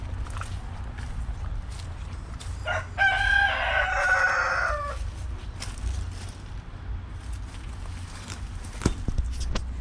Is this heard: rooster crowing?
yes